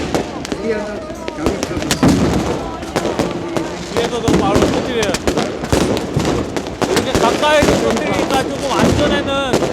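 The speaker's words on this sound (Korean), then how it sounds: "여기는 폭죽을 어마어마하게 많이 터트리네요." At Tbilisi's New Year festival, fireworks and firecrackers crackle and bang in dense, near-continuous volleys very close by, with screeching whistles and people's voices mixed in.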